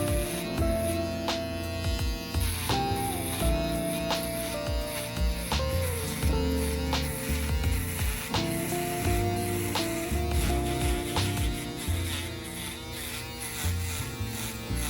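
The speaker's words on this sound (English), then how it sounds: "Use the shaver using the border of the machine and cut from right to left." Electric shaver cutting hair during a skin fade haircut, a steady continuous buzz running the whole time over background music.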